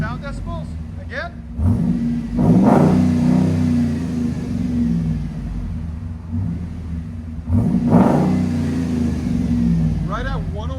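Deep V8 rumble from a 2016 RAM 2500 HD with the 6.4L HEMI and a Vibrant resonator exhaust, revved twice in loud surges over a steady idle, with people talking nearby between pulls.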